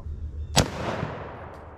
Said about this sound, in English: we're gonna go and throw some 9mm ammo at it